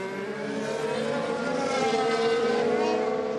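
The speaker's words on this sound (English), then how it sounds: "just the minute he got the power down, went up into third gear" Onboard a 2016 Formula 1 car, the engine howls steadily and loud as it accelerates and climbs through the gears into third, with broad engine harmonics rising under faint talk.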